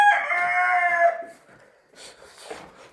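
A rooster crows at night, one long, strained, close cock-a-doodle-doo lasting about a second, followed by faint clucking and rustling from the flock.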